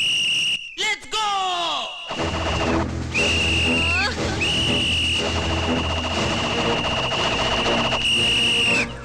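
A shrill whistle sounds in long sustained blasts with a few sliding tones, loud amid a noisy comic scene with voices and clatter underneath.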